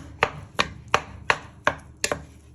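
Six evenly spaced chops breaking up beef in a pan, crisp and close, about three per second, with no talking.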